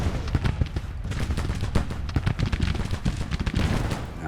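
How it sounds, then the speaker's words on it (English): Massed musket volleys crackle from Civil War troops in Grand Tactician: The Civil War, a dense, continuous rattle of overlapping shots with sharper reports standing out throughout, no voices. "Now firing at detachments."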